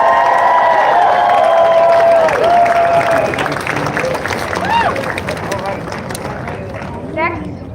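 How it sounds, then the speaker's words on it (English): Crowd at an outdoor protest rally applauds and cheers, a broad wash of clapping and shouts that slowly fades, with voices and a whistle-like cry mixed in. "Let's have another big round of applause for Ricardo Reyes."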